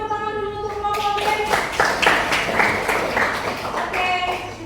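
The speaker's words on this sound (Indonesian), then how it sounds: "tepuk tangan dulu untuk kelompok B" Classroom applause for a student group after their presentation, a burst of clapping from several people that runs about five seconds under a voice speaking.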